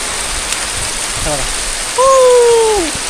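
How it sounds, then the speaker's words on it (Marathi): Steady heavy rain pours down in a constant hiss at Sondai Fort, Karjat, with water gushing, and a brief bird call rising over it near the end. "जबरदस्त पाऊस पडायला लागलेला"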